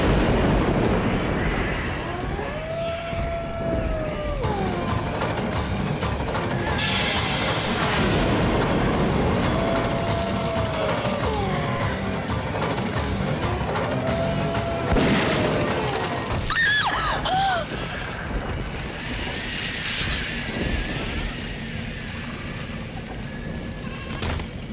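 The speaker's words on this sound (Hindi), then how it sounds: "सर गोली चला दी आपने" A gunshot in a Hindi TV serial drama, a heavy booming blast set within a long stretch of swelling dramatic background music and effects.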